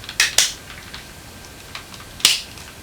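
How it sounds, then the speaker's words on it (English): Plastic pieces of a Transformers Ultimate Bumblebee toy snapping into place in front of the back tires: a few sharp, close clicks, two quick ones at the start and a louder one near the end. "Now we can place these pieces right in front of the back tires, just like that. And you'll hear another really loud snap."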